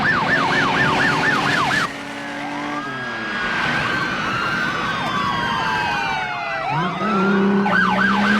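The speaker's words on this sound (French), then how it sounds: "Envoyez une ambulance à tout hasard." An ambulance siren wails loudly alongside other emergency sirens in a film chase scene, warbling and sweeping tones overlapping with passing traffic, continuous throughout.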